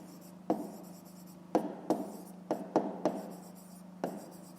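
Handwriting on paper while working a fifth-grade maths exercise, with a series of sharp pen taps and short scratching strokes, about seven distinct strokes at uneven intervals, close and quiet over faint background hum.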